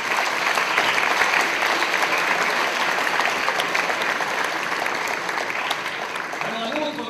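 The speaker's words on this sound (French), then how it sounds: "J'aimerais qu'on l'applaudisse." An audience applauds at a presentation of video game projects, steady dense clapping filling the room at an even level throughout, with no voices over it.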